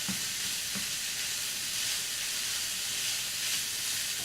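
Venison sizzles steadily in a hot pan while chili is being cooked, giving a loud, dense, continuous frying hiss with faint stirring knocks and no voices.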